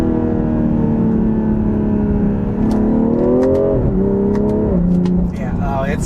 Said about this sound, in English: let's try it out in manual mode next. And a couple quick manual shifts here